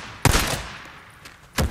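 Two separate loud gunshots in Days Gone, the first echoing briefly and a second about a second and a half later, with quiet ambience between them.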